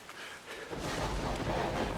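Rain and a low thunder rumble from the video game No One Lives Under the Lighthouse, the storm swelling from a quieter start into a loud, dense wash of rainfall with deep rolling thunder.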